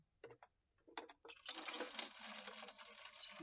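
Green-coloured water poured into a cup, a few brief splashes followed by a steady filling gush of liquid that runs on to the end, fairly near and moderately loud.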